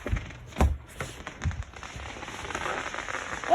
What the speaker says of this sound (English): They're doing fireworks.